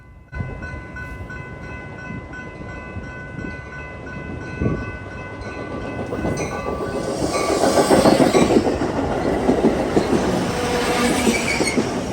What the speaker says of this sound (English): 191 makes its grand return, pushing an inbound Metra.